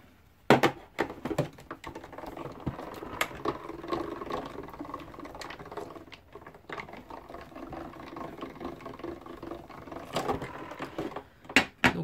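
A cold embossing machine feeds toilet paper through its rollers with a steady mechanical whir and rattle, broken by sharp clicks and knocks at the start and near the end, fairly close and without talk.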